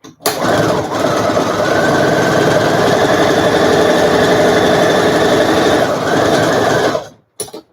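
Sewing machine running a continuous zigzag stitch along the edge of a fabric face mask, a steady close whirring motor hum lasting about seven seconds before stopping.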